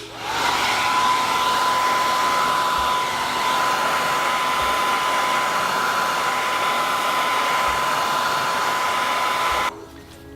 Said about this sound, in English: So we're going to use that hairdryer and start melting these.